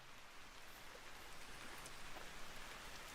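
Steady, quiet rain falling in the video game Vintage Story, a soft continuous patter that stays even throughout with no other sounds.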